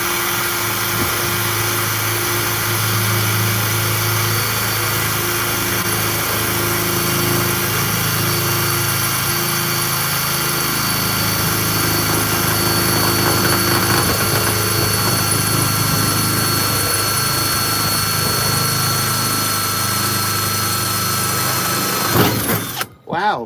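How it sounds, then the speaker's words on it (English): A power drill runs steadily for over twenty seconds, boring a hole to fit a diesel heater, with a strong continuous whine and motor hum that ends abruptly at the close. "let's see if we can drill this hole"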